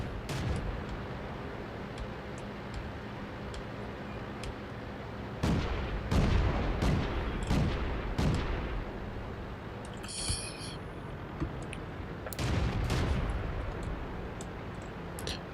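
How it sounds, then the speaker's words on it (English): In World of Tanks, booming artillery and cannon shots strike in several heavy bursts over a steady engine rumble, with blasts clustered in the middle and near the end, fairly loud and close. "I think that's artillery shooting at me, yeah."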